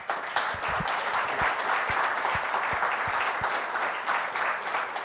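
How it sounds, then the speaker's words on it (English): A panel talk audience breaks into sustained applause, dense even clapping from many hands filling the room at steady loudness, with no one speaking over it. "maybe a round of applause for these guys."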